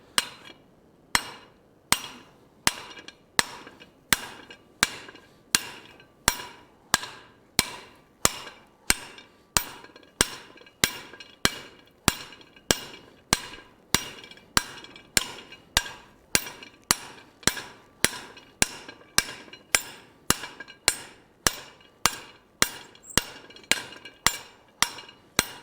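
A hammer strikes hot steel on an anvil while forging a colonial style trivet, sharp ringing blows in a steady rhythm of roughly one or two per second, close and loud, continuing for the whole stretch.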